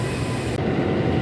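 Railcars of the Bengawan train rumble steadily at a station platform, a continuous loud low rolling noise with no talk, the hiss in the upper range cutting off about halfway through.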